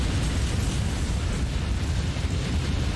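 An enemy warship blows up and sinks in the naval combat game Warship Gunner 2: a dense, continuous low rumbling roar of explosion that holds steady and loud for the whole stretch, with no voices.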